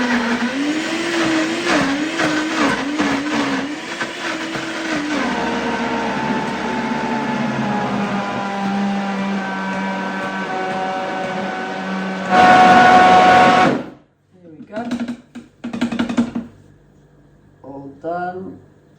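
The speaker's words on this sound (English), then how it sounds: "I'm doing this in MiHealthmaker Blender" A MiHealthmaker power blender whirs through a vegan mac and cheese sauce, its loud motor pitch shifting as it churns, then a brief louder surge before it cuts out. Scattered clunks and handling noises follow.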